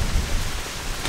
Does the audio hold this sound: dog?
no